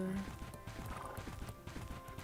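A horse in the Bella Sara video game gallops with steady clip-clop hoofbeats and lets out a whinny, all under a continuous layer of talk.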